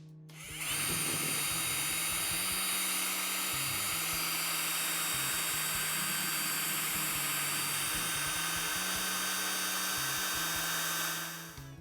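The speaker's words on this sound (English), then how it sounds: "we're going to mix it for 2 minutes with a drill" A power drill whirs steadily for about ten seconds mixing a can of floor coating, starting and stopping abruptly, with a fluctuating low churning underneath.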